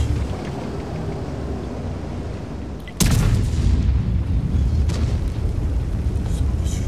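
Heavy tank cannon firing in World of Tanks: a sudden loud boom about midway cuts through the steady game rumble, followed by a fainter shot, with a player talking over it.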